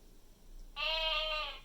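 A recorded sheep bleat from a VTech Touch and Learn Activity Desk toy, one sustained wavering baa that starts partway in and holds steady, clear and alone.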